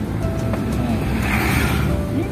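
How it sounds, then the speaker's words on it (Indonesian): Big heavy trucks roll along a busy industrial-area road near Serang, Indonesia, a dense, steady engine and tyre rumble heard close from the roadside, with faint voices underneath. "Banyak truk-truk karena soalnya di sini banyak kawasan industri."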